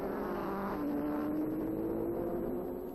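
Silver 1930s Mercedes racing cars at the German Grand Prix on the Nürburgring, a steady loud engine drone with a sustained pitch, slowly sliding as the cars run past, filling the whole stretch.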